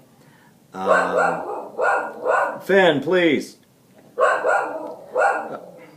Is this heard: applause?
no